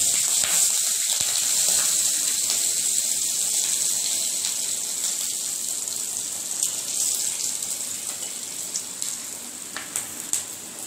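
Nigella seeds and green chili sizzle in hot oil as a tempering, making a steady, loud, hissing crackle close by that slowly settles, with a few sharp pops toward the end.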